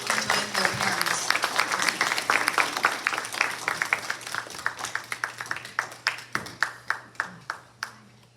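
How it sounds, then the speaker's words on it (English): Audience applause for young performers at a classical concert, a steady patter of many hands clapping that thins to scattered individual claps toward the end, with faint voices underneath. "Give them one more applause and they can join their parents."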